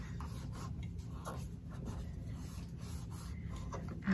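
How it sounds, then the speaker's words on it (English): Soft, quiet rubbing and scraping of a tool pressed along the edge of folded paper, a steady low friction texture in short repeated strokes with no talking. "I'm going to kind of burnish it along the edge"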